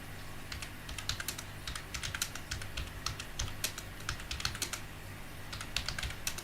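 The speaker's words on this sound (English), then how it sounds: "I generally can't talk while I'm typing" Steady computer keyboard typing up close, a continuous run of quick clicky keystrokes with brief uneven pauses, nobody speaking over it.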